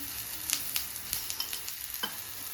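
Maharashtrian thalipeeth frying in oil on a pan gives a steady soft sizzle with scattered crisp pops and a few light scraping taps, close and continuous.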